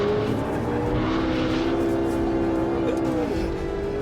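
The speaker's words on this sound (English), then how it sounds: "And yes, you can now drift a McLaren." A McLaren 12C Spider slides through a drift, its engine droning steadily at high revs while a sustained tire squeal runs over it, close and loud throughout, dipping briefly near the end before holding again.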